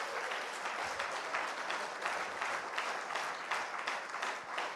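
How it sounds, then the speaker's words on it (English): An audience at a company presentation claps in a steady, dense round of applause, even and sustained throughout with no voices over it. "Let the claps go on."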